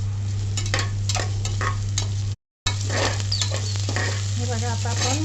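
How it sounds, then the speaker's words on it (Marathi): Ginger garlic paste sautéed with whole spices such as cloves, peppercorns, cinnamon and green cardamom in a pan for matar pulao, giving a steady sizzle with scraping stir strokes and a low constant hum, briefly cut out midway. "नंतर आपण आलं लसूण पेस्ट ही पण त्यात छान परतवून घेऊ"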